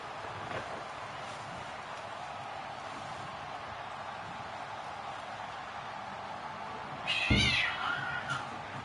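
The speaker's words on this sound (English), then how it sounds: "Cats are wrestling in the hallway." Cats fight in a hallway, a yowling, wavering cry and a sharp thump rising late over a steady background hiss of crowd noise.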